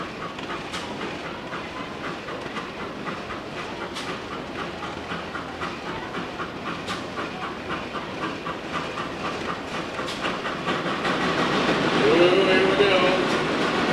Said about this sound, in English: Eric Douglas bringing down the flagship of Midwest Old Threshers, a 110 horsepower case steam engine